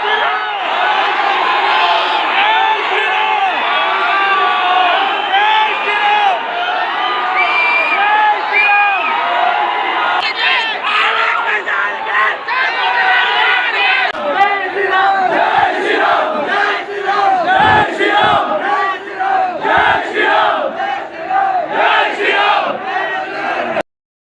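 A movie theatre audience screams, whoops and cheers loudly and without pause, a dense crowd roar of many voices with bursts of shouting throughout.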